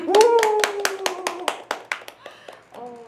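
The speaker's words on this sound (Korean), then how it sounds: "박수 쳐드려야죠" A small audience in a classroom micro:bit coding demonstration claps in a quick, even run of about a dozen claps, with a sustained tone or voice at the start and more voice-like tones at the end.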